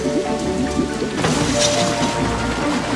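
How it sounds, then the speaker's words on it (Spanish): Steady, dense rain in a cartoon set at an amusement park, falling loudly and continuously with a swell of rumbling thunder partway through, no voices heard. "Tranquilo, mi Sifu, es lluvia mágica."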